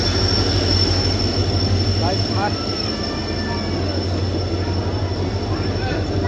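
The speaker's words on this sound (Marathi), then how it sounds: "आली आहे रेल्वे" A train arriving at Arvi railway station rumbles steadily nearby with a low mechanical drone and faint squealing wheels, while background voices and a high whine persist throughout.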